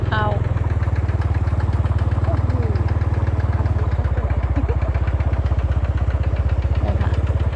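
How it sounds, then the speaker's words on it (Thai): A small engine-driven water pump filling a rice paddy from a ditch chugs steadily at close range with a rapid, even thumping beat, while someone speaks over it. "พี่เขาวิดน้ำเข้านาอยู่ ใช้สูบวางนะคะ"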